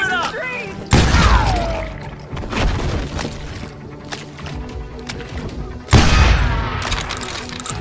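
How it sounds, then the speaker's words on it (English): Gunfire in the Call of Juarez: Gunslinger video game: two heavy, sharp blasts about five seconds apart, with scattered shots and clatter between them and voices shouting over the fight. "They're shooting"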